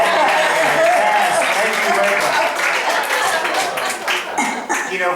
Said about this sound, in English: Give Linda a round of applause.